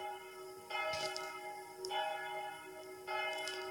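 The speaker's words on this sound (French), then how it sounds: "Vu que c'est en panne, c'est teinté sur la cloche numéro 2." Church bell number 2 tolls for a funeral, a single struck bell ringing three times at slow, even intervals, each strike ringing on with a long sustained hum, heard alone.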